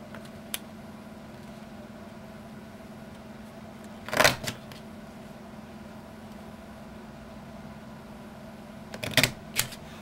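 Martha Stewart border punch cutting paper for a Cricut craft border, two separate crunching punch clicks about five seconds apart, each with a quick follow-up snap, over a steady low room hum.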